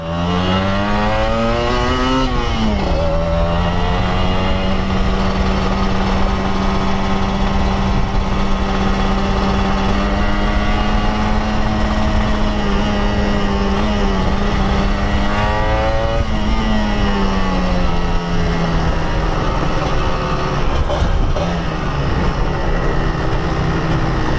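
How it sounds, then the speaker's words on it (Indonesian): A car goes by on the road, heard over the loud, steady whine of a nearby running engine, likely the Kawasaki Ninja 150, whose pitch rises and falls twice over the stretch. "Hii, ada mobil."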